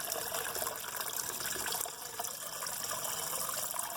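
Dandelion mead straining through a bag into a bucket, a steady trickling, splashing liquid sound heard close and continuous throughout, with no talking.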